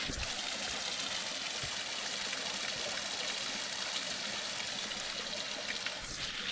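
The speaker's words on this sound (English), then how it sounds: "Our first waterfall. It's baby one, but it's stunning." A small waterfall on the Kitty's Gorge hike in Serpentine National Park rushes and splashes in a steady, close, unbroken wash of water, with no voices.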